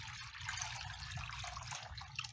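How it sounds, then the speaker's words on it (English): Liquid from an old six-year-old car battery pours out in a steady, continuous trickle with no talking, faint and close. "Now when I pour this out, you're gonna be able to tell."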